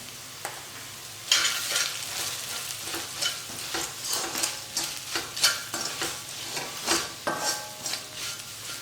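Chili powder being stirred into a kuzhambu in a pan, a near, rhythmic scraping with repeated utensil taps against the metal over a soft sizzle, heard without any talking.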